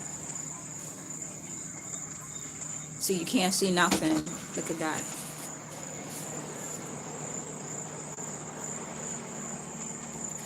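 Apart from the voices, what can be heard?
crickets chirping at night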